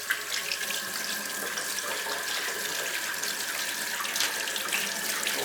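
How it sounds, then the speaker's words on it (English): Hot tap water runs steadily into a sink while buttery fingers are rinsed under it, a close, continuous splashing hiss with small shifts as the hands move. "Wash the buttery fingers in hot water"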